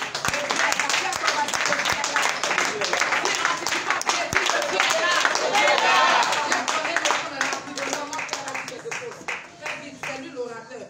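A church congregation claps and applauds together, a dense, loud run of many hands that swells and holds for several seconds before slowly thinning. Voices mix in underneath.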